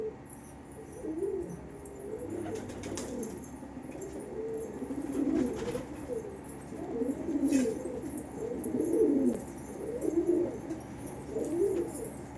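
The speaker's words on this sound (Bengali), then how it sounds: "সব অন্ধ্রের পায়রা আছে আমার কাছে" Andhra Pradesh pigeons coo in a steady run of soft, low, rolling calls that repeat throughout, fairly close, over a faint background hiss with a few high chirps.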